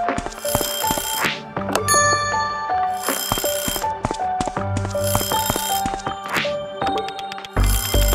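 Alarm clock ringing insistently in the game A Space For The Unbound, loud repeated bright chiming bursts layered over a rhythmic musical pattern that keeps going without stopping.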